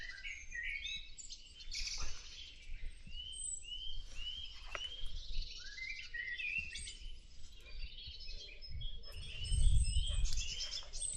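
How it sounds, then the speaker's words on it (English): Many birds sing and chirp in Delamere Forest, overlapping trills and whistles at varying distances over a quiet background, with a low rustle or footstep thump near the end. "Bird song all over the place."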